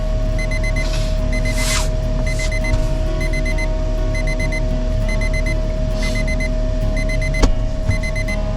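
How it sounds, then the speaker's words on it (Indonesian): An alarm clock ringing at seven in the morning inside a campervan in Malino, South Sulawesi, with bursts of rapid repeated beeps over a constant low engine-like rumble. "Hari ini kita dibangunkan alarm di jam 7 pagi."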